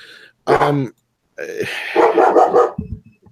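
A dog lets out one sharp, close bark, then after a short pause gives a longer rough burst of barking and grumbling.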